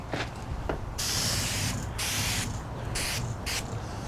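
A garden hose sprays water while a Toyota Corolla is washed, producing bursts of strong hissing spray that start and stop several times over a softer background wash, fairly close and with no talking.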